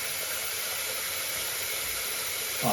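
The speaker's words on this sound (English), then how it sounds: "You can turn on some water." Steady broadband hiss of water running from a tap into a slow-draining bathroom sink, constant and close, with a brief change in the splash at the very end.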